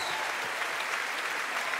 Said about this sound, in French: un tonnerre d'applaudissements pour Avril Lavigne qui est avec nous ce soir